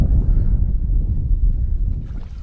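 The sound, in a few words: strong wind blowing while packrafting on a flooded river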